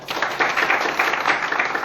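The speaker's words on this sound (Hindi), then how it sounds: "अरे भाई जोरदार तालियां हो जाए।" Audience applause at a Hindi-language motivational seminar on millionaire mindset: steady, dense clapping from a crowd for about two seconds, fairly loud and even, with no talking over it.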